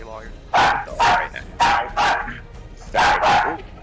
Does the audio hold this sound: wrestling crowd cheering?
no